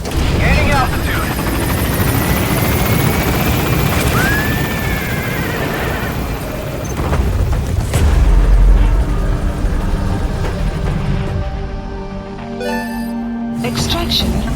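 Extraction helicopter lifting off from a hot landing zone in Metal Gear Solid V: The Phantom Pain, a loud steady rotor roar under radio chatter and crashing effects, fading toward the end.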